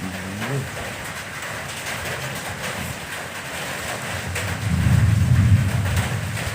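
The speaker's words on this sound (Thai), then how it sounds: "เสียงฝนท่านผู้ชม" Steady rain hiss fills the clip, with a low rumble swelling near the end and a faint bird-like chirp early on.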